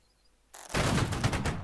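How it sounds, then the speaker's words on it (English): A near-simultaneous volley of musket fire from a line of British infantry in the Napoleonic-era battle game Holdfast erupts suddenly after near silence, a loud crackling cluster of shots that rolls on for about a second. "Very nice volley there."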